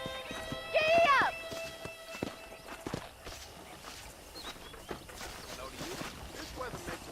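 Horse hooves clop steadily as a horse is ridden in the Western video game Red Dead Redemption, set on a ranch property, with a whinny-like tonal call near the start and speech and game sounds over the hoofbeats.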